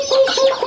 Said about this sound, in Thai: มีแต่ไก่แจ้ทุกคน